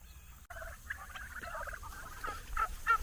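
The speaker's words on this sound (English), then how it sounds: "Curious turkeys making their way over to me anytime I approach" Turkeys on a vegetable farm call in a busy, overlapping patter of short clucks and chirps, nearby and moderately loud, with a few sharper yelps toward the end and no one talking.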